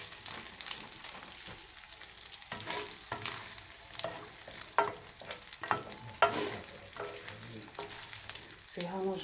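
Sausage meat frying in a pan for a homemade Southern breakfast sausage onion gravy, with steady sizzling and crackling throughout, broken by occasional louder pops and stirring scrapes.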